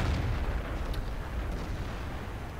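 An IS-2 tank's cannon firing at a T-44 in World of Tanks, a single deep booming report that rumbles and fades out over a couple of seconds.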